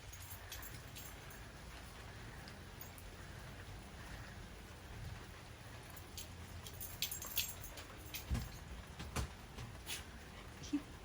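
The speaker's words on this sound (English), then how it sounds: "Yeah, it's downpouring right now." Heavy rain pours down steadily outdoors, a dense continuous hiss with a few louder drips and splashes near the end.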